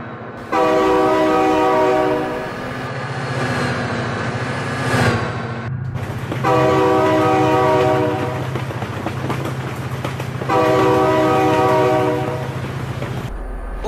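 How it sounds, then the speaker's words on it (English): A train passes close and loud, its horn sounding three long blasts with short gaps between them over a steady low rumble of the rolling cars. "Oh my god, train!"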